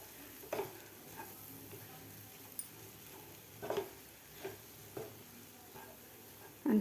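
Rava-coconut modak mixture being stirred and sautéed in a pan, with a faint low sizzle under scattered soft scrapes and taps of the spoon, alone and fairly quiet.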